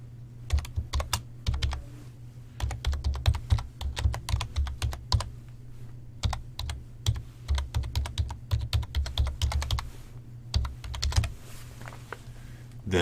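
Typing on a computer keyboard as a web address is entered into trusted sites, producing steady close key clicks in uneven bursts with short pauses, over a low constant hum.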